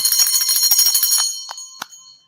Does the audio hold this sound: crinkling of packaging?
no